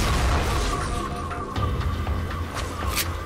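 Grenades explode in Halo 4 combat, giving a loud booming blast at the start followed by crackling debris and sharper pops amid ongoing gunfire.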